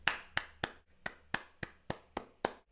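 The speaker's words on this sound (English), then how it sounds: "Every time I see Zelensky, I just start clapping." One person claps alone, nine sharp, close claps in a slightly uneven rhythm about three per second, each followed by brief quiet.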